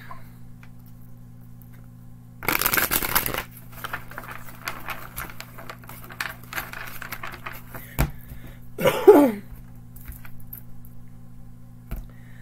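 A deck of bowed tarot cards is shuffled by hand, giving a dense papery riffle burst, then scattered light ticks and a second brief flutter of cards.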